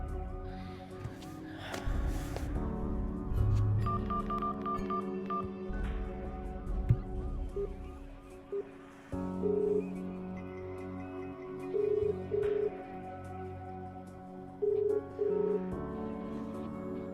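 Phone-line tones from a call that rings out unanswered in a Hindi-dubbed movie scene: short repeated beeps over a soundtrack of music and background noise, with no voices.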